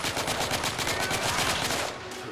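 Rapid automatic gunfire from the video game The Order: 1886 rattles in a fast continuous burst, loud and dense, then tails off.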